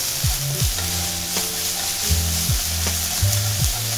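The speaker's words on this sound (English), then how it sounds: "we are just going to stir fry this curry paste with the chili flakes" Thai red curry paste stir-fried with chili flakes and garlic in hot oil, with a loud, dense, close sizzle throughout. A spatula scrapes the pan in repeated strokes about every half second.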